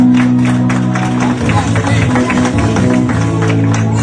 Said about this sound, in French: Son Excellence Daouda Diabaté, on applaudit très fort.